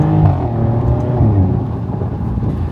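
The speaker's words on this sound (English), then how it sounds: "the other perk of convertible is you can hear that engine" A Maserati GranCabrio Trofeo convertible's twin-turbo V6 engine revs and settles into a low, throaty rumble, heard close and loud without talk.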